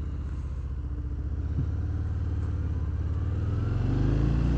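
A 2022 Harley-Davidson Fat Bob motorcycle rumbles while riding, its V-twin engine steady and close, then rising in pitch and loudness as it accelerates near the end.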